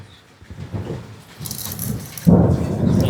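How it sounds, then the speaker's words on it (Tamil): Thunder rumbles through a rainstorm, a low rolling roar that swells sharply near the end and stays loud, with steady rain hiss underneath. "இடி தான் இடிக்குதே."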